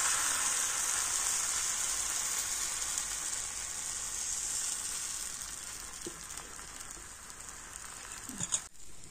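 Flour batter sizzles steadily in a hot pan while a roti is cooked, a constant close frying crackle with a few faint clinks near the end.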